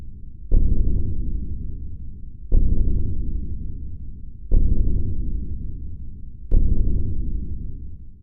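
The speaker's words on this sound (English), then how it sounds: "the soundtrack becomes increasingly ominous, beginning with a simple thumping sound" Four heavy, low thumps from a horror video game soundtrack land at an even pace about two seconds apart, each booming and slowly fading like a slow heartbeat.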